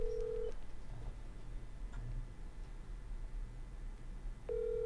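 Phone keypad dialing tones as someone places a call, short clear beeps at the start and end with a low murmur of background noise between them.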